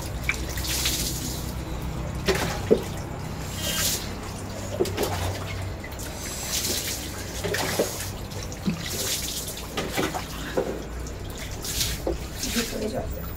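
Water is poured over someone bathing in cold weather, landing in repeated splashing bursts every second or two, with dripping and trickling between pours.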